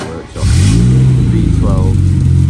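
A classic V12 car engine fires up loudly nearby and settles into a deep, throbbing rev with rising harmonics, and a voice briefly cuts in partway through.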